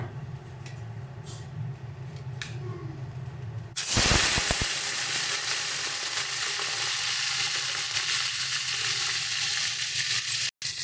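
Prawns drop into hot mustard oil in a pan and set off a sudden loud, bright sizzle. The steady frying hiss then runs on to the end over a quieter kitchen background.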